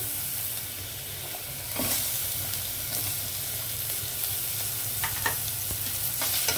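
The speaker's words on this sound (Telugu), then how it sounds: "ఇప్పుడైతే అది మాడిపోకుండా ఉల్లిపాయలు వేసేద్దామండి, ఆనియన్ వేసేద్దాము." Onions sizzle in a pan with ginger and garlic, a steady close frying hiss with occasional stirring scrapes and crackles, no voices.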